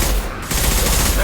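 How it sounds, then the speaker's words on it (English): Impact shot gunfire in Mass Effect 2, a loud dense burst of shots that cuts briefly, then resumes as continuous heavy fire with a voice mixed in. "Firing an impact shot!"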